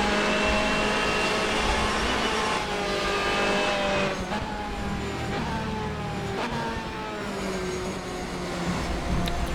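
GT race cars in a GTE-series round at Le Mans, in a racing video game, scream along the circuit near the Tertre Rouge corner; several engine notes climb steadily and overlap, with whooshes as cars pass, and no voices.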